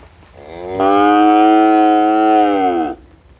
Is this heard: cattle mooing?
yes